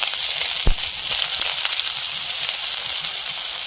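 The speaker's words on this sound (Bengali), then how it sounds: "পেঁয়াজ রসুনটা ভেজে নিয়েছি" Onion and crushed garlic frying in a wok make a dense, continuous hiss of hot oil, close and fairly loud, with one brief knock early on and no voices.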